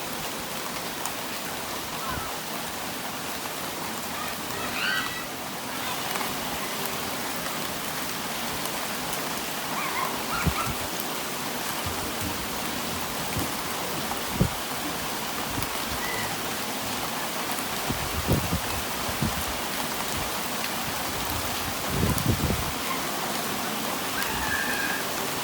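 Steady rain falls continuously, a dense hiss of drops on surfaces with occasional louder splashes and faint distant activity underneath.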